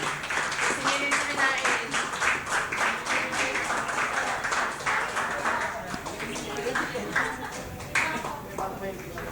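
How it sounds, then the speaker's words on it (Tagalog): Audience claps for Regine at a birthday party, a dense run of hand claps that continues for several seconds with voices talking and calling out over it. "Guys, palakpakan po natin si Regine."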